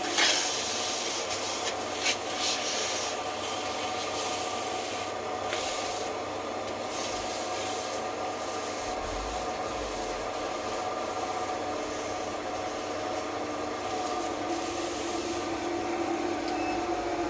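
Skew chisel cutting wood on a spinning lathe while shaping a Christmas tree, a steady rough rubbing scrape with faint ticks, continuous and close, with a low motor hum beneath and no talking.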